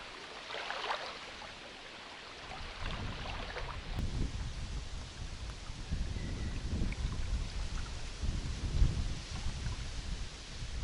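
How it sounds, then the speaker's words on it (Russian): Wind gusting outdoors at a fishing spot by the water, a steady low rumble and microphone buffeting that builds and stays fairly loud throughout, with no talk. "Поднялся ветер."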